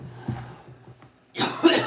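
A woman with allergies and a throat tickle lets out a small throat-clearing cough, then one loud, harsh cough near the end, close and clear with no talk.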